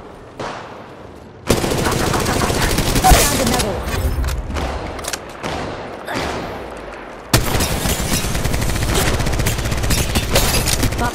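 Rapid automatic gunfire from an Apex Legends Mobile ranked match, loud dense bursts of shots with booms, a quieter opening before sustained firing kicks in and a second loud burst late on.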